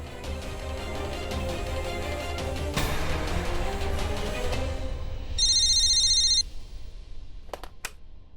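A telephone rings once with a bright electronic trill, cutting in over background music and noise before stopping abruptly.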